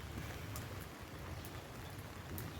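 Rain falls over a rooftop garden of potted plants, a faint, steady patter of drops spread evenly throughout with no voices.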